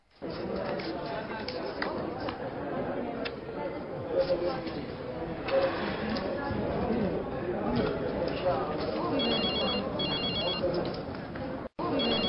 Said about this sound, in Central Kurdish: تەلەفۆنە.